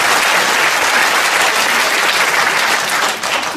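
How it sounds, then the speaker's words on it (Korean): Thick, continuous clapping fills the hall as a concert audience at a National Cemetery memorial concert applauds, loud and even before dipping slightly near the end. "더욱더 박수를 좀 드립니다."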